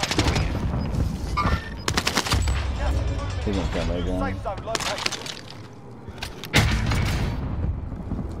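Gunfire crackles in a Call of Duty: Modern Warfare match: loud bursts of automatic shots and sharp single reports, with a voice talking over and between the volleys.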